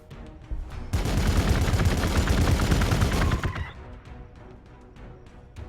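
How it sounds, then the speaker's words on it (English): Video game gunfire erupts in a sustained, loud burst of rapid automatic shots lasting a few seconds, preceded and followed by a few scattered single pops. "Let's open fire here."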